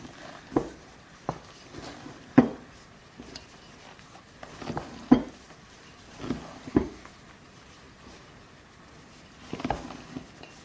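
A spoon stirring molasses into a bread mixture in a bowl, quiet soft knocks and scrapes at irregular intervals against a hushed background.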